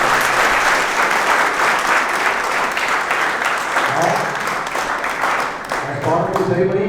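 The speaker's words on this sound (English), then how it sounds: "So one round of applause for Group Captain A.K." Steady, dense applause from a ceremony audience welcoming guest Group Captain A.K. at a special SSB session. The clapping holds at an even loudness for several seconds, with a voice coming in near the end.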